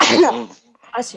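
A single sharp sneeze bursts out close by, followed after a brief pause by a short spoken remark.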